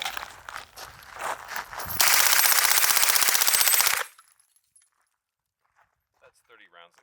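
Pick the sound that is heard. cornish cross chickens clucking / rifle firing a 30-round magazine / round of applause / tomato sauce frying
rifle firing a 30-round magazine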